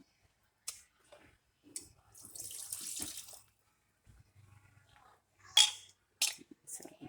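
Tap water runs into a cooking pot for tomato conserva in a home kitchen, a soft steady pour lasting a couple of seconds, set between scattered knocks and clatter with brief quiet talk.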